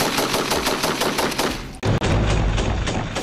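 A combat robot fires the world's only fully automatic shotgun in loud, rapid bursts of blasts. A brief pause splits the bursts before a heavier, booming volley resumes.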